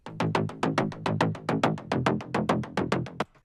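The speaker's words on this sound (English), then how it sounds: "For the drop we use two top layers for the bass and together they sound like this." Two layered synth basses play together for a slap house drop. They give a punchy, rhythmic sequence of about fourteen short plucked notes at a steady fast pace, loud and alone, stopping abruptly near the end.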